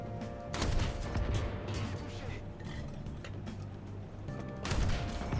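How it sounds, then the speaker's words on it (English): A tank's main gun fires at a Panzer II in War Thunder, two heavy booming shots near the start and end with rumbling engine and battle noise between, and a voice faintly present. "Let's fire at their Panzer II"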